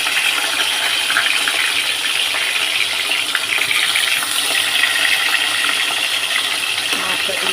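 Katla fish dropped into hot white oil in a pan fries with a loud, bright, continuous crackling sizzle that holds steady throughout, and nothing else stands out over it.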